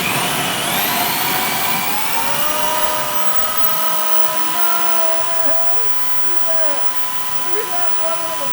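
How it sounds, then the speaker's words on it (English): A small power tool drives a barley grain cracker while home-brewing beer, a loud, steady whirring whine with shifting tones as the grain is crushed, and a voice speaks over it. "It's called a cracker opener, barley cracker. There's the barley, my little power tool there."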